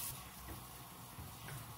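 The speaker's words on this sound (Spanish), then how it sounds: "Voy a echarle agua al arroz." Water runs steadily into a pot of rice in a home kitchen, a continuous splashing pour at close range with no talk.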